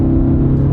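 An old, high-mileage car accelerates hard from about 45 mph with the throttle floored to pass, its engine giving a loud, steady droning roar heard close up from inside the cabin.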